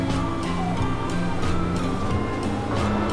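An Isumi Railway diesel railcar pulls away from Kuniyoshi Station, its engine droning steadily with a rhythmic clatter of wheels over rail joints, heard from inside the car as a continuous loud rumble.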